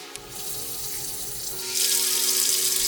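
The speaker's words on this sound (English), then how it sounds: "take a quick take of the water running in the sink" Water pours from a faucet into a sink as a steady close hiss and splash, growing a little louder and brighter partway through, recorded in a quiet room with no voices.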